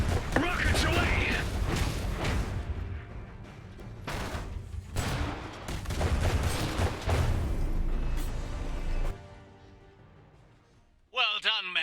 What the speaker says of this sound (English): Rockets away.